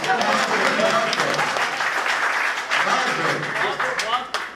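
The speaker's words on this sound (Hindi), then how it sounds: "दोस्तों, तालियां बजाते रहिए।" Applause from a mushaira audience rolls through a hall as a steady wash of clapping, mixed with a speaking voice addressing the crowd.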